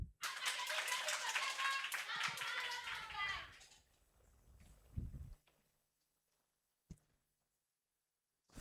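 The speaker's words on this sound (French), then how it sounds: "Merci d'accueillir sous une tonne d'applaudissements le lycée de Tocoin 2" Young students in a school quiz-show audience greet a high-school team with a few seconds of shrill cheering and scattered clapping, fading out into near silence with a couple of faint thumps afterward.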